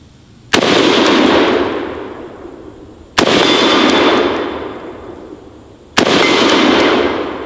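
Three single rifle shots from a Galil .308 ring out loud and close, evenly spaced, each a sharp crack followed by a long echoing decay across open ground.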